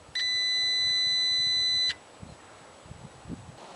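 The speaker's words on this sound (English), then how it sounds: "Touch the two probes together to make sure that the digital multimeter continuity setting is working, which will make a beep sound." A digital multimeter's continuity setting gives a single steady electronic beep for nearly two seconds as its probes touch, clear and close, then stops, leaving faint background noise and small handling clicks.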